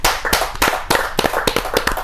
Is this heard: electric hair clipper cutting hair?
no